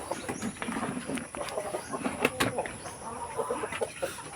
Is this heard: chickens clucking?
yes